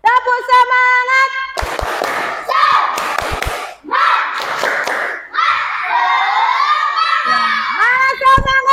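Schoolchildren in a classroom during a physical education lesson perform a clapping chant, loud bursts of rhythmic claps and group shouting alternating with a teacher's voice leading them.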